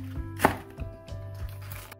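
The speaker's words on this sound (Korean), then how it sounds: "파란 부분은 5-6cm 길이로 자르세요. 흰 부분은 칼집을 내고 좀 더 짧게 자릅니다." Kitchen knife slicing green onion (daepa) on a cutting board for green onion kimchi, a few crisp close chops with one sharp loud strike and softer taps after, no voices.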